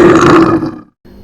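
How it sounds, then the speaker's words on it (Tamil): A bear in a Tamil children's story gives a single loud, deep, rough growl lasting under a second, then cuts off abruptly into silence. "அது கரடியோட சத்தம்."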